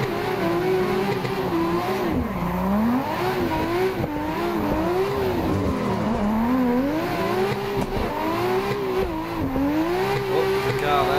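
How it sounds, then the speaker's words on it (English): A car drifting in the Assetto Corsa racing game, its engine revving and wavering continuously at high pitch as the throttle is worked through slides, loud and steady with faint tire squeal. "I was more than ready to start drifting"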